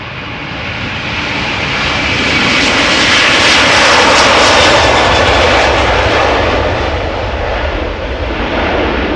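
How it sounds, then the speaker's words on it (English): A six-year-old Delta Air Lines Airbus A330-300 departing Amsterdam Schiphol for Seattle roars close by, its engine noise rising to a powerful peak mid-pass and then easing slightly, loud and unaccompanied by speech. "this is Delta Airlines flight 143 A330-300 outbound to Seattle."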